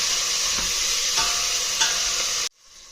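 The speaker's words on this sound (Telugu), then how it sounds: "కరివేపాకు, టమాటా, ఇవన్నీ వేసి బాగా కలుపుతుంది" Curry leaves, mint and tomato being stirred into sizzling biryani masala for mutton dum biryani, a loud continuous frying hiss with periodic scraping strokes, close up, cutting off abruptly near the end.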